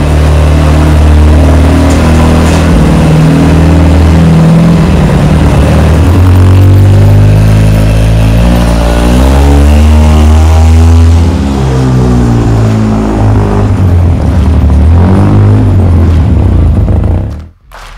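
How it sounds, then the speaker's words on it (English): A Polaris RZR engine runs loud and close on a test drive after an axle and CV replacement, its pitch climbing and falling through repeated revs and accelerations before cutting off abruptly at the end. "make sure that you take the machine out for a test drive"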